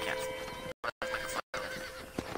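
A horse in the Red Dead Redemption video game gives a high neigh amid game sounds and brief gaps, with a person talking over it.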